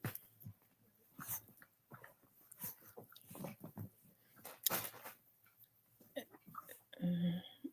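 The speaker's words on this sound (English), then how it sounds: "These dogs have got to be too much." Dogs whimpering, whining and breathing close by in a quiet room, in short irregular bursts with pauses between them.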